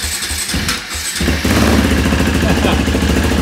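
A quad ATV engine coughs through a few rough turnover attempts, then catches and settles into a steady, loud idle close by.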